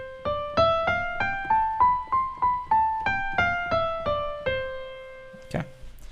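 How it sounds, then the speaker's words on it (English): A major scale rises and then descends as a musical demonstration, each of the plucked notes sounding distinctly and decaying evenly in a steady rhythm. It ends with a short sharp knock. "We're going to use those units of measurement to describe our first melodic common pattern, which is the major scale."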